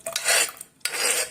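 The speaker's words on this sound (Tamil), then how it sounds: "இப்போ இது எல்லாத்தையும் ஒன்றா மிக்ஸ் பண்ணிக்குவோம்." A spoon scrapes and stirs cooked sago, boiled moong dal, dry ginger and cardamom together in a pot for payasam, making two close, rasping strokes with a short pause between them and no speech.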